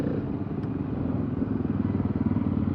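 Trail motorcycles roll in to a first-day-of-summer club ride gathering, a loud, steady close engine drone with some clatter, continuous and with no talking.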